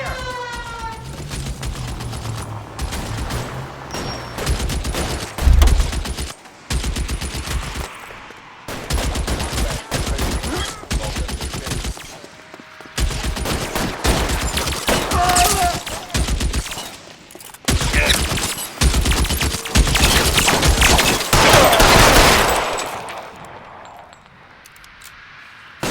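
Dense bursts of gunfire and fusillade volleys in a crime-themed action video game, loud rapid shots repeating in clusters throughout with brief gaps, a voice calling out at times and a faint siren in the background.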